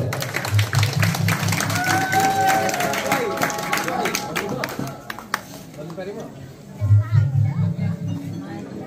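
Audience applause at a Danda Nacha artist felicitation ceremony in Madhyakhanda, a dense crowd clapping that swells twice beneath continuous announcer speech, with a busy, reverberant hall background.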